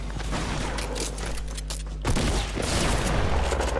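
Enemy gunfire in a shooter video game: a continuous rattle of shots against a loud low rumble, growing heavier and denser partway through, close and unbroken, with no talk.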